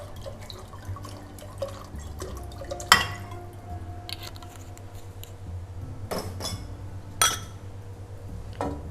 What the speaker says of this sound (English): we put about 3 cups of water